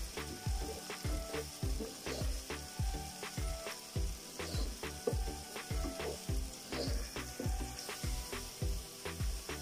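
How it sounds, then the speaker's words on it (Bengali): Ginger garlic paste fries with softened onions in a pan, a steady sizzle broken by rhythmic, regular scraping strokes of a stirring spoon, close and continuous, with no voices. "আদা রসুনটাকে একটু নেড়ে চেড়ে মিশিয়ে দিচ্ছি।"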